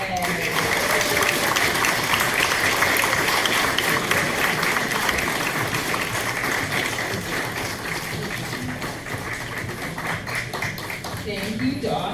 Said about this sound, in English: Let's demonstrate a deafening round of applause as Dawson, our domino delivery driver, drives down the runway.